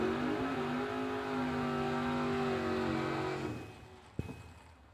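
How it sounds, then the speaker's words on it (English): A drag racing dragster roars hard down the strip at a New Year Nationals event, a loud sustained engine howl for over three seconds that fades, followed by a sharp bang. "Here comes our first dragster."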